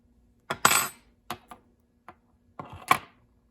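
Sharp metallic clicks and taps from unscrewing a small bolt on a Shimano Dura Ace 7402 rear derailleur, several close, distinct hits spread over a few seconds with quiet between.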